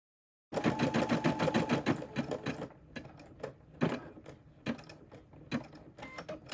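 A Brother SE6 embroidery machine starts up and stitches a design with rapid, clattering mechanical pulses, steady at first and then breaking into irregular bursts and pauses, close and fairly loud.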